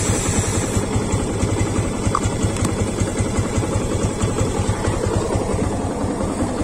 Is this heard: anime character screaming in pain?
no